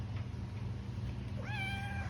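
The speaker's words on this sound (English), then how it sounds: "Kitty. What are you doing in my shop?" A cat gives a single clear meow inside a stone-working workshop, faint against a steady low hum, arriving after a quiet stretch.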